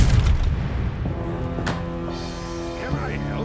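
Cannon or gunfire in the Age of Empires 3 video game, with a booming low rumble at the start and mixed battle noise under game unit voices and tonal chatter.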